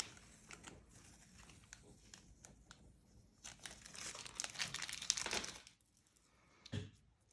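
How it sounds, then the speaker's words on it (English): Masking tape peeled slowly off watercolour paper, a close crackling and crinkling tear that builds in the middle and trails off, with a final short rip near the end. "So when you take the tape off, I tend to hold the paper as I'm taking it off."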